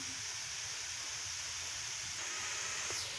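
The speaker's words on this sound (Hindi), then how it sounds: "तो अभी हमने गाजरें रखी हैं, तो अभी हम इनको थोड़ा सा कुक होने देते हैं" Carrots cooking in a pan for coconut carrot laddoo give off a steady, soft hiss and sizzle, even and continuous, with a faint rise toward the end.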